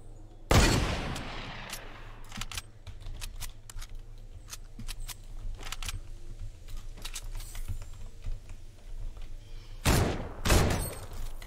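Two loud, sharp video game hunting rifle shots from a thermal-scoped rifle, one at the start and one near the end, with a light patter of small clicks in between.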